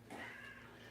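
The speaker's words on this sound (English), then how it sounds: "sorry about the cats out back there in the background" A single faint cat meow drifts in from outdoors at a distance, brief and soft against quiet room background.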